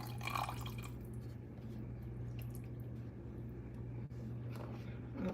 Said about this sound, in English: Vegetable broth. I'm gonna put the rest of that in there.